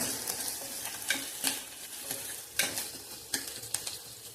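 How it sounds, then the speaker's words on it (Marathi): Onion fries in a pan under a soft, continuous sizzle, with intermittent sharp scrapes as a spoon stirs it, quiet and close with no speech. "कांदा चांगला लाल होऊ द्यायचा."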